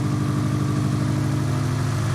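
A Subaru STI with a fuel leak idles steadily up close, fully warmed up, a constant low engine hum with an even exhaust pulse and no voices throughout.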